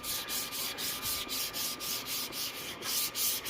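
Wooden plaque being hand-sanded on a slick surface, a steady back-and-forth rasping scrape in regular strokes roughly twice a second, close and continuous with no talking.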